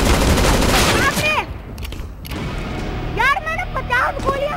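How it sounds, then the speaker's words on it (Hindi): Rapid bursts of gunfire in the Counter-Strike video game, a loud volley followed by further shots and ricocheting whistles, with someone talking over the action. "मैंने 50 गोलियां मारी"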